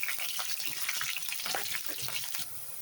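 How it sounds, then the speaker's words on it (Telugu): Chopped onion and dried red chillies frying in a pan for radish chutney, a continuous dense crackling sizzle with small pops, close and fairly faint throughout. "ఇందులోకి మనం కట్ చేసి పెట్టుకున్న ఆనియన్, ఎండుమిర్చిని అయితే వేసుకొని కలర్ చేంజ్ అయ్యేంత వరకు కొద్దిగా ఫ్రై చేసుకోవాలి"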